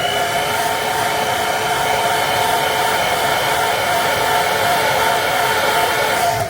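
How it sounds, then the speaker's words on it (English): A hair dryer blows steadily at full power, a loud constant whirring roar with a high motor whine that continues unbroken from start to finish. "and we'll hit it with a hair dryer."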